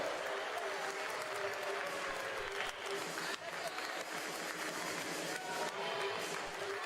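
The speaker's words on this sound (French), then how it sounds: "Applaudissements, s'il vous plaît" Velodrome crowd applauding during a team flying-lap track cycling event, continuous bright clapping and cheering across the stands, loud and steady, with a brief dip partway and a low announcer's voice faintly underneath.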